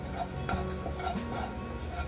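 White sesame seeds are stirred in a hot kadhai, a brief run of dry, rhythmic scraping and rustling strokes at close range with no voices.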